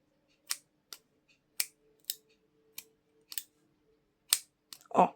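Eight or so sharp, crisp snips of scissors cutting fishing line at irregular intervals, close up, ending in a brief rustle of handling.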